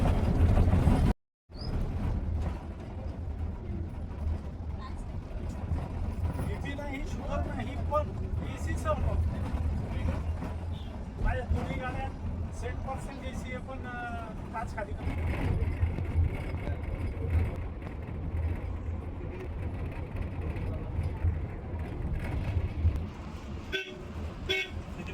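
Inside an MSRTC electric Shivai bus while riding, a steady low road rumble and cabin hum run throughout, with people talking over it and a brief horn toot.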